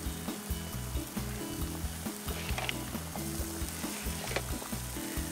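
Shrimp shells searing over fire for a Gulf Coast shrimp boil, a constant crackling sizzle with sharp pops over a low, pulsing rumble, with no voices.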